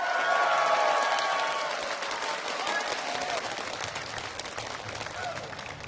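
A big arena crowd at the Worlds 2012 esports quarterfinal breaks into loud applause and cheering, a dense wash of clapping that peaks at the start and then gradually tapers off.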